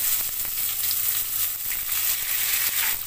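Chopped onions fry in oil in a pan with cumin, fennel and fenugreek seeds for a tangy bean curry, making a constant loud crackling sizzle with light stirring scrapes now and then.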